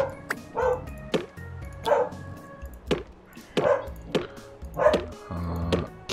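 A dog barks outside in the game Two Point Hospital. Sharp woofs and yips come in an irregular series, some with a whimpering edge, heard clearly with no talk.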